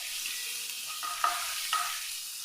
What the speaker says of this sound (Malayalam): നമ്മുടെ സവോള ചേർക്കാം.